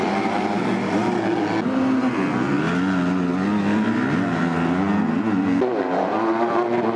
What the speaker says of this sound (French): André Adamo, lancé sur sa KTM, a réussi à prendre la tête de la course